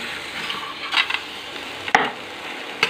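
Dry chicken pieces with cardamom and cinnamon being stirred in an oilless pan, a soft continuous scrape with a few louder close knocks of the spoon, no talking.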